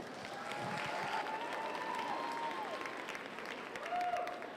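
A crowd at a county youth fair market hog showmanship class applauds the exhibitors, with steady, moderately distant clapping over a few seconds and a faint voice or whistle-like tone drifting underneath.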